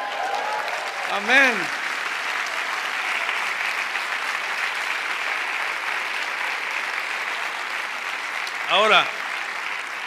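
A church congregation applauds the Lord in a steady, sustained wash of clapping that runs through the whole stretch, with a preacher's voice speaking briefly over it near the start and again near the end.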